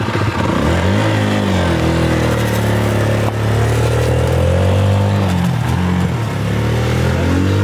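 A motorcycle engine revs loudly and close, its pitch climbing and falling in repeated surges with no break across the stretch.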